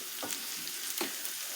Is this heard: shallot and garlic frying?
yes